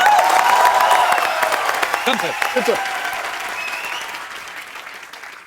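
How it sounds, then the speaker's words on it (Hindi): A studio audience at a TV comedy show bursts into loud, dense applause that stays strong, then gradually fades over several seconds while someone speaks briefly over it. "जोरदार तालियां यार, जोरदार"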